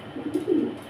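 A single short, low, throaty coo from a pigeon held in the hand during a breeding display, close and moderately loud.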